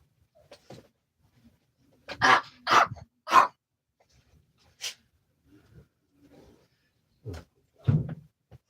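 A dog lets out several loud barks close by, separated by short quiet gaps, with a few softer yips and rustles between.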